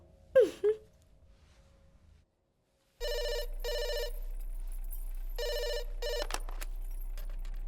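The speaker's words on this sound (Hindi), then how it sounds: "तुम्हारे लिए फोन है।" A telephone rings in a Hindi-dubbed South Indian action film, repeated bursts of a bright electronic bell with short pauses between them, heard alone after a brief vocal sound and silence.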